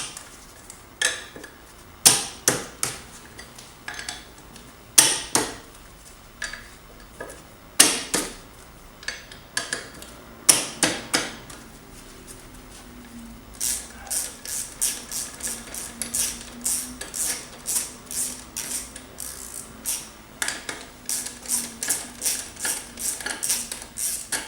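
Bolts are loosened and a motorcycle rear sprocket removed during a chain kit change, producing scattered sharp metallic clicks and clanks, irregular at first, then a denser run of ratcheting ticks, close and fairly loud.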